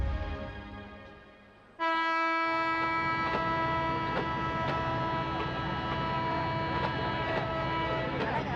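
A train horn sounds at a railway station in a Telugu film scene: after a moment of quieter voices, a loud, sustained horn blast begins and holds steadily to the end.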